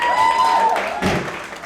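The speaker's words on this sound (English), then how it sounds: "they deserve that applause" Stand-up comedy club audience applauding, a broad steady wash of clapping that fills the room for under two seconds, loud and close, with a brief tonal sound at the start.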